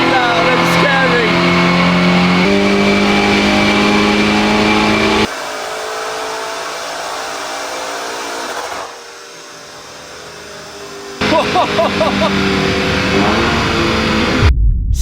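A Lamborghini Urus running a dyno pull on a base tune, its engine droning loud and steady, dropping off to a lower idle and then building again near the end, heard close.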